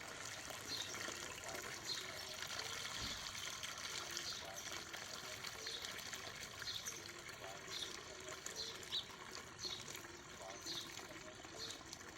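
Faint trickling and pouring water runs continuously as water is poured off from a vessel, quiet and steady, with occasional small splashes and light background noise.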